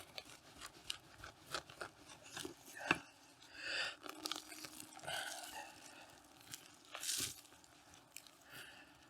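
A clump of hellebore rhizomes being cut deeper to divide it, giving a run of close, dry crunching and snapping bursts with a tearing quality, irregular and fairly quiet.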